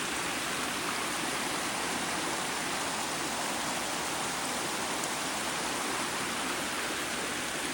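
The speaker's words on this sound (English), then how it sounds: "This is where the creek starts," Steady broadband rush of creek water at its source on Mt Marathon, flowing from underground, loud and continuous with no pauses and no voices.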